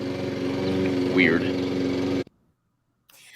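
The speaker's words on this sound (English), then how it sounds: "excuse the lawnmower man behind me because he naturally wanted to mow at the same time" A lawn mower engine drones steadily behind someone speaking outdoors, then cuts off abruptly, leaving near silence.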